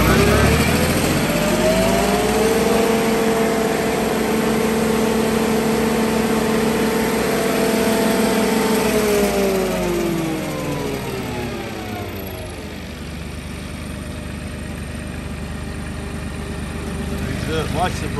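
Bandit 2550 stump grinder engine revving up loud and steady with rising harmonic tones, holding for about ten seconds before winding down as the brake slows it quickly, then a lower idle continues.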